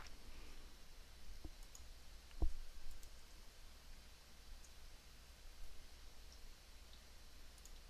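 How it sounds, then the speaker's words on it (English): A couple of faint, sharp clicks against a steady low hiss, one slightly louder in the middle, with no talking. "I just had to actually do like a mouse click there to set it"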